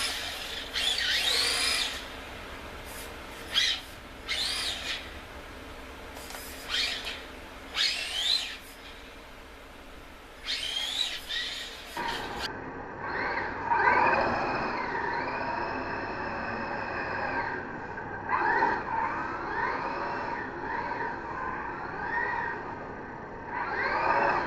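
A Latrax 1/18th scale Rally RC car drives with a high electric motor whine that revs up and down in short repeated bursts, then settles into a steadier, smoother whir for the remainder.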